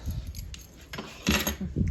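Keys jangle in short metallic bursts at home as a door is locked, loudest in two clusters near the end, with faint background noise.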